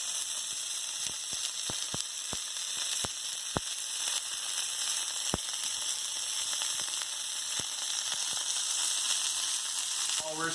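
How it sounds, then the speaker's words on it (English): Ground beef searing in a pan for cheesy Bolognese, a steady close sizzle and hiss with scattered sharp pops and crackles popping up irregularly throughout, no voices heard. "While we're sealing the beef"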